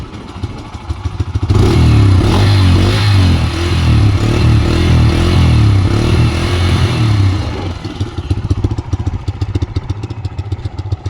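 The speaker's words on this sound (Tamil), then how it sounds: "த்ராட்டில் பண்ணி காட்டுறேன்." A motorcycle engine is revved hard with the throttle, rising to a loud sustained roar for several seconds, then dropping back to a rough, pulsing idle with some clatter, close to the listener and with no talking.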